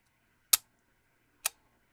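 A Holga 120N or Moskva 5 medium format film camera shutter fires two sharp, close clicks about a second apart in otherwise quiet surroundings.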